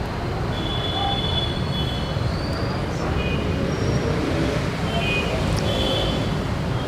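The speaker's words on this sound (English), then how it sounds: "I can hear all the traffic noise up above." A constant low roar of distant traffic rumbles overhead in Ahmedabad, India, with occasional faint high metallic squeals drifting through.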